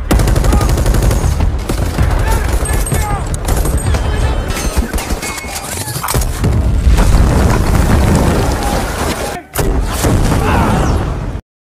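Gunfire from a shootout in the war film Outside the Wire, with bandits firing on civilians inside a building: dense, continuous bursts and booms layered over a loud action soundtrack, with a brief drop near the end.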